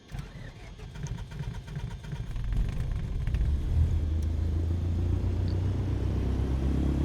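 A Cessna's propeller engine starting in Microsoft Flight Simulator: a few cranking coughs catch and swell into a steady, loud low rumble that holds through to the end.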